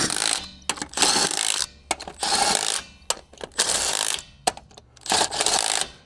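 Lug nuts on a Kawasaki H2 motorcycle wheel being tightened in a star pattern, with bursts of loud ratcheting wrench clicks in repeated runs separated by short pauses, close up with no talking.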